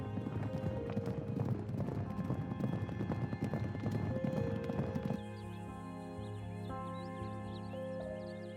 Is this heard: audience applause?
no